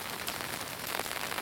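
Rain falls outdoors at a castle, a dense steady hiss of drops hitting surfaces with no pauses, fairly loud and close, and no voices.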